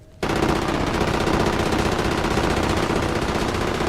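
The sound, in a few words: gunfire in video game Halo 5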